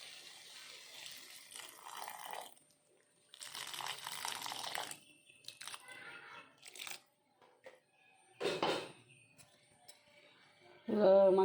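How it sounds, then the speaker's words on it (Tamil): Rice-washing water is poured into a village-style cabbage and banana flower curry in bursts of splashing and trickling, with crinkling and clattering of cooking between pours and a brief voice near the end. "இதில் கொஞ்சம் கழனி தண்ணி ஊற்றிக்கலாம்."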